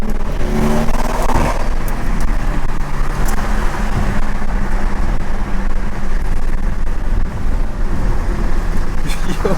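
An Audi revs and accelerates with a loud, continuous engine roar from close by, and road noise runs under it throughout.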